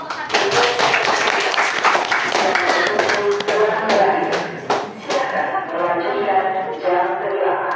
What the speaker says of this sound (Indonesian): Silakan dulu tepuk tangan untuk kelompok 1